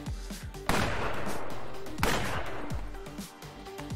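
Two sharp, loud gunshots in the video game Fights in Tight Spaces, spaced about a second apart, each with a long decaying tail, over a low rhythmic game music bed.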